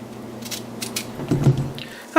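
A knife cuts through a large head of cauliflower, splitting it into three wing-sized pieces for crispy cauliflower wings: a few close, soft crunching cuts with a sharper crack near the end over a low background hum.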